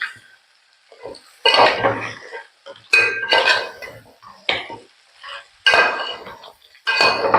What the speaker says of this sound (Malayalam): ഈ ഞണ്ടിന്റെ എല്ലായിടത്തും ആവണം അപ്പൊ അതുവരെ നമ്മളിതൊന്ന് ഇങ്ങനെ ഇളക്കി കൊടുക്കണം